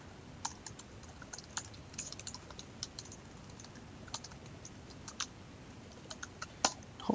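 Someone types a password on a computer keyboard to sign in, a steady run of quiet, close key clicks with a few sharper taps among them and no talking.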